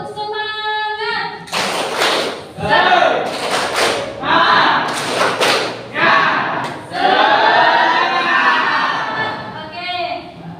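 A group claps in bursts of quick, loud rhythmic patterns, pausing between rounds, with voices shouting along near the end.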